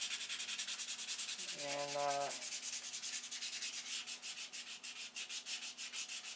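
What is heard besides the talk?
hand sanding with 320 grit sandpaper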